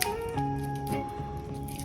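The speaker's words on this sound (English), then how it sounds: "If your garlic has a root, you need to cut the root." A knife slices the root end off a garlic bulb in one short, crisp cut, close and fairly quiet against a faint background hum.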